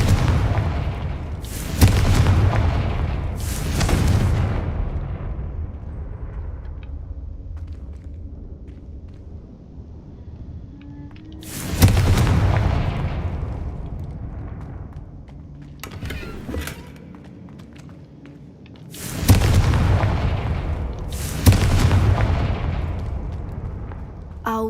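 Confringo fire spells in the video game Hogwarts Legacy go off as a series of heavy booming blasts, roughly four or five deep impacts spaced several seconds apart, each trailing into a rumbling decay.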